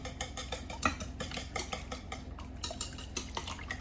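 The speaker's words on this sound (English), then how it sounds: "I'm just getting my whisk" A whisk pulled from a jumble of kitchen utensils, with a rapid run of light metallic clinks and rattles, close and quiet, no talking.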